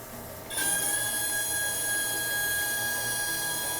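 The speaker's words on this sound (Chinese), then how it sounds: "我们可以听得到它这个出油量的声音比较尖" A repaired, previously faulty Mercedes-Benz R129 300SL fuel distributor runs a full-throttle flow test on a bench, fitted with a high-flow M104 pressure regulator. After a half-second of quiet, a sharp, high, steady whining hiss starts and continues without a break.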